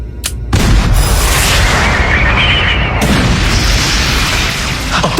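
A missile fires from an Ultraman Cosmos TV show and explodes, a sharp launch crack followed by a loud, sustained roaring blast with a second surge partway through, no talk over it.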